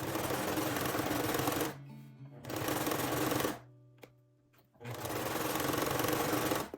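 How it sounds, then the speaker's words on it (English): A home sewing machine stitches a dress seam in steady bursts, running about two seconds at a time with short pauses between runs while the needle is dropped and the presser foot raised. "I'm gonna drop my needle, raise my presser foot, and rotate"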